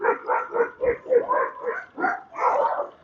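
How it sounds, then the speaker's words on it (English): A dog barks repeatedly at close range, a rapid series of about ten sharp, loud barks, the last one longer and drawn out. "I got a dog barking at me here"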